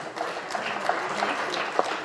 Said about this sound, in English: Can you all just give a round of applause to Thane,